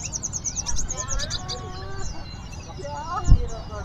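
Caged songbirds, including bulbuls, at a bird seller's stall, with scattered bright chirps and short warbling calls over background chatter and market noise, a voice speaking nearby.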